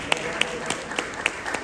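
Indoor audience at an awards event gives a brief round of applause, steady hand-clapping with a few sharp near claps standing out.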